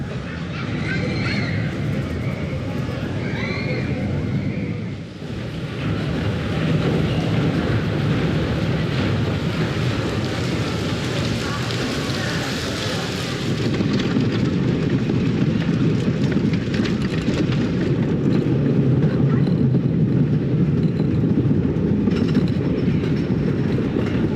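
The Big Dipper roller coaster at Blackpool Pleasure Beach rumbles and clatters continuously along its track, a loud, dense roar of wheels and wind with a brief dip in intensity early on.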